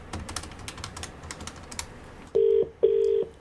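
Phone dialing for a radio prank call: a few muffled clicks and taps, then two loud, steady electronic tones, each lasting about half a second, sounding close by.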